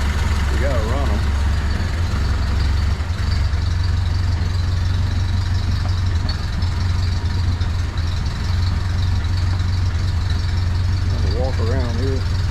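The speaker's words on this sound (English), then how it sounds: "Sounds like a Model A." 1931 Ford Model A Sedan Delivery truck's engine idling with a steady, loud low rumble that holds without change, while people talk nearby.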